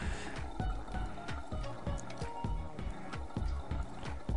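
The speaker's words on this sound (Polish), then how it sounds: "Woda płynie tędy." Water flows through pipes in the puzzle game Machinarium, giving a continuous dripping, trickling patter with a regular pulsing rhythm, steady and moderately quiet throughout.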